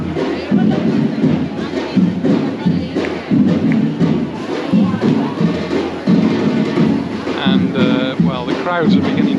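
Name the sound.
drummers drumming in a street procession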